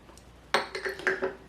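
Hair serum ingredients stirred in a container, a run of clinks and scrapes of a utensil against the sides, fairly close and quiet, with no talking.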